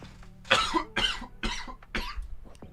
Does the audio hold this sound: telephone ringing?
no